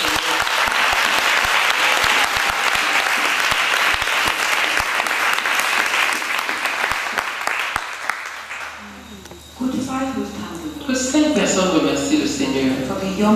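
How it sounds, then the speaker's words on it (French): Loud, dense applause from a church congregation, sustained for about eight seconds before fading, after which a voice begins speaking. "Let's clap."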